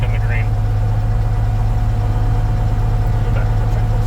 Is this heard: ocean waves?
no